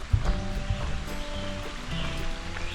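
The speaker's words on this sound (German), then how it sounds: "Hier ist schon eine Wasserquelle" A water source along the Appalachian Trail flows in a steady, moderately close stream, its rushing wash broken by a few low thumps and no talking.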